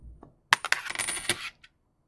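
A coin hits a hard surface with a sharp clink, then rattles and rings briefly as it spins and settles.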